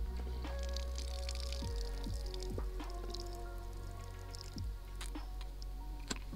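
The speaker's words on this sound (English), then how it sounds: "you want to make sure you blow all the excess water out" Blowing excess water out of a LifeStraw personal water filter, wet squishing gurgles and sputtering drips in irregular bursts, close up with no talk.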